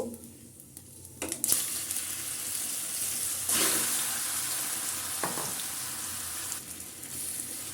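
Mashed olives hit hot mustard oil tempered with whole spices for Bengali olive pickle, giving a steady sizzle with bursts of louder crackle and the scrape of stirring.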